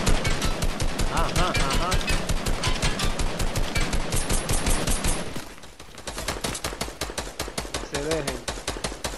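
Gunfire in the video game Fortnite: long strings of rapid, loud automatic shots rattle on, pause briefly, then resume in more bursts, with a short spoken reply.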